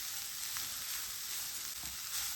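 Spices stirred in a hot frying pan for a cauliflower paratha filling, an even dense sizzle throughout with faint scraping of the spoon, no talking.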